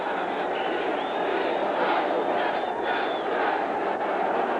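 A dense football stadium crowd roars and cheers continuously at an NFL game between the Indianapolis Colts and the New York Jets, the loud wall of voices swelling slightly without letting up.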